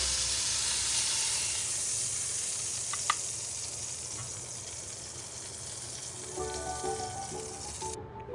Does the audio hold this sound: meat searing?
yes